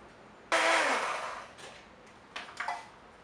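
A small blender whirs loudly in a brief burst as it mixes evaporated and condensed milk, then trails off, followed by a few short clattering knocks.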